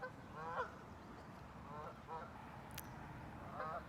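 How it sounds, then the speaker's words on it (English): Geese honk in several scattered bursts, moderately distant, over a steady low outdoor rumble, with no talking. "Sorry about the geese."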